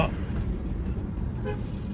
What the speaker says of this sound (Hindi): ब्रिज पे पूरा ट्रैफिक जाम है आगे तक।